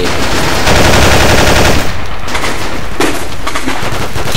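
Gunfire in the Battlefield video game with the AIX mod: loud, dense bursts of rapid automatic fire run almost continuously, with brief changes in texture between volleys.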